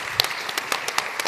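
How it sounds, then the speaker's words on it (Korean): Audience applause at the close of a lecture during an entrepreneurship concert series, a short burst of scattered hand claps with no voices. "오늘 세 분께 다시 한번 박수를 보내드리고 강연은 여기서 마치겠습니다."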